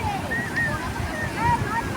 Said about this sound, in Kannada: ಅಲೆಗಳು ಎಷ್ಟು ಬರ್ತಾ ಇದ್ದಾವೆ ನೋಡಿ ವೀಕ್ಷಕರೇ